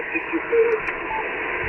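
An amateur radio station's signal comes through a Yaesu FTX-1 Optima receiver with SDX noise reduction on: a muffled, band-limited voice transmission with hiss, steady and moderately loud throughout.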